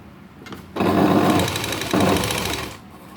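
A sewing machine runs close by while stitching a blouse sleeve, with two loud bursts of rapid mechanical whirring and needle chatter separated by a brief dip and ending abruptly.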